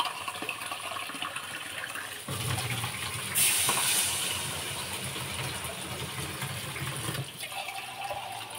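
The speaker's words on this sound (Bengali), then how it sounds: "এবারে জল দিয়ে দেবো" Cold water is poured into a cooking pot with boiled potatoes for a home fish curry, a soft steady splashing and gurgling against low background hum.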